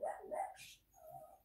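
A pet dog gives a couple of short, faint barks and a soft whine indoors, quiet and brief.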